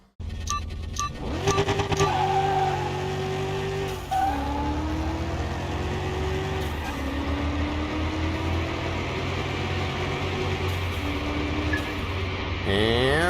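A tuned car in a drag race against a Pagani in Car Mechanic Simulator 2021, its engine revving hard through several rising gear pulls with brief shift dips, loud and continuous from launch to finish.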